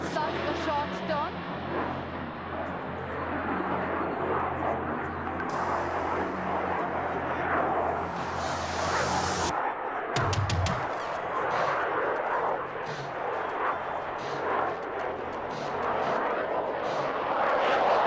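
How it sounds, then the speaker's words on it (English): Indian Air Force fighter jet roaring through a tight minimum radius turn at an air display, a loud sustained engine rumble and whoosh under a commentator's voice. "Can you imagine such a fast aircraft carrying out such a short turn?"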